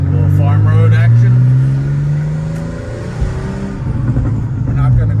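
A 1991 Porsche 964 C2 Turbo cruises in fifth gear, heard from inside as a close, steady engine drone that dips in pitch, then swells again with a brief burst of throttle.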